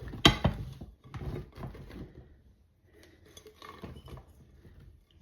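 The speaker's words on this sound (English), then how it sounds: "you're just going to dump your squash right in the skillet" Chopped summer squash dumped from a container into a skillet for a casserole; a sharp clatter at the start followed by scattered soft patters and rattles of pieces settling, close and fairly quiet, without speech.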